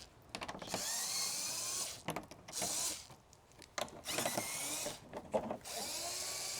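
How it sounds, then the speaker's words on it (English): A small cordless electric driver backs out 10mm screws from the underbody panel of a 2025 Toyota Camry Hybrid, four or five short high whirring bursts with brief pauses between them, close and fairly quiet. "It has 4 10mm screws on here that we'll need to take out. So we have this little electric tool for."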